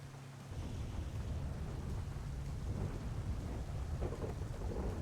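A video-game thunderstorm rolls on with a dense, steady wash of heavy rain and deep rumbling thunder, loud and continuous, with no voices.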